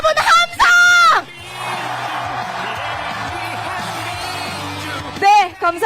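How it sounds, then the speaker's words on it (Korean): Rally crowd of Ulsan citizens at a Lee Jae-myung campaign event roars in a loud, sustained cheer lasting several seconds, framed by an amplified announcer's voice before and after. "울산 시민 여러분 함성!"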